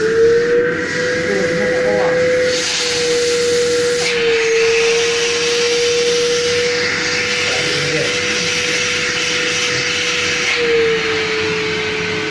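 A wet/dry vacuum cleaner runs steadily and loudly throughout, its motor whine holding a constant pitch with slight shifts as the hose is partly blocked by paper or plastic debris.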